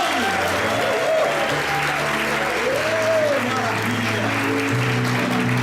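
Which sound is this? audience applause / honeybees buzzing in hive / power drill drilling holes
audience applause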